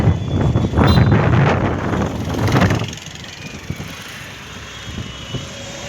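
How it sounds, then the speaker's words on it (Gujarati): Strong, gusty wind blows hard on an outdoor roadside, buffeting the microphone with loud roaring gusts for about three seconds before easing to a quieter, steadier rush. "જોરદારનો ગાઈઝ પવન છે પવન નહીં આ તો કંઈ વાવાઝોડું જ કહેવાય"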